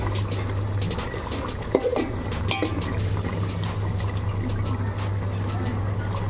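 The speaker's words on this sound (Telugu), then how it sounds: "బౌల్లోకి వాటర్ వేసుకోవాలా." Water pours into a bowl for cooking rice in a home kitchen while making chicken biryani, heard as a continuous splashing trickle. A low steady hum runs underneath, with a few brief clinks.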